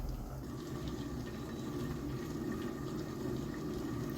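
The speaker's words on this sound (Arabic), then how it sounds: "عايزه شويه ميه كمان كده، ميه مغليه طبعا" Boiled water being poured into a pot of chicken kabsa, a steady continuous splashing and filling sound that runs close and evenly for the whole stretch, with no talking.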